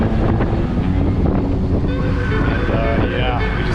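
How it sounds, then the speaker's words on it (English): Strong 30-40 knot wind roars over the microphone with crashing waves and hull wash aboard a sailboat on a pitch-black offshore night passage, a steady loud rush throughout with brief creaks and whistles. "Got like 30 knot winds consistently."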